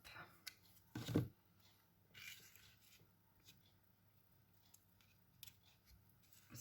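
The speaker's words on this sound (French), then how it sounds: "je vais couper un tout petit morceau" Scissors snipping a small piece of moon-shaped paper for a Halloween card, a single quick close cut followed by soft paper handling and faint rustles.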